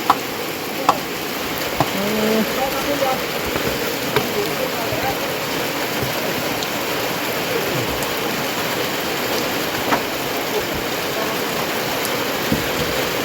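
Steady, even hiss of rain falling during a storm throughout, with scattered soft knocks and faint voices now and then underneath.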